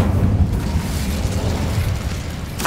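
A fire spell cast in Hogwarts Legacy: a loud, dense rumbling roar that fills the whole moment and ends with a sharp crackling flare right at the close.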